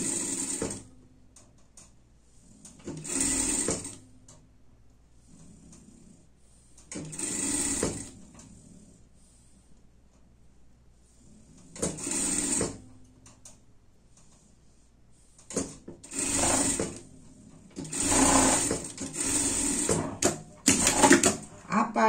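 A sewing machine runs in several short bursts while stitching the hood seam of a pet hoodie, the pauses between runs filled with quiet handling and speech.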